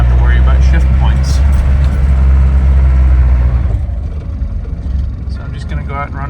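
A Land Rover Defender with an automatic conversion drives along, its engine a loud, steady low rumble close by that eases slightly partway through, with road noise and faint voices underneath.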